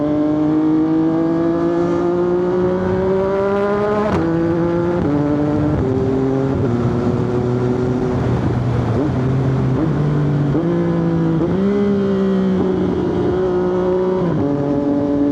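A Triumph 675SR motorcycle engine with a quickshifter drones loudly and continuously during a ride, its pitch climbing through the revs and dropping in quick steps at each gear change.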